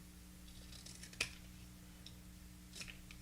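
Scissors cutting paper tags for junk journal ephemera, a faint quiet snip or two in a hushed room, with one sharper click midway and a softer cut near the end.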